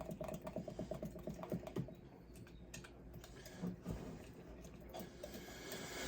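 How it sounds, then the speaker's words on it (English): A spoon stirs sourdough starter in a jar, making a quick run of irregular light clicks and taps that are dense at first and thin out toward the end, close by. "Stir, stir, stir, stir."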